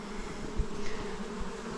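Honeybees buzzing near a homestead hive as they gather pollen in spring, a steady low drone with occasional closer passes swelling briefly.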